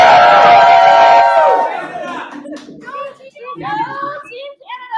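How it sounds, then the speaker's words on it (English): A small group at a curling event in Beijing lets out a loud, brief cheer and whoop for the Canadian Paralympic team, which fades into scattered chatter and talk. "let's hear the cheer before we leave you."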